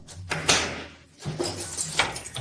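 A door is opened in a tense domestic scene, giving a sliding rattle and a dull knock of the frame, followed by shuffling and handling noises close by with no talk.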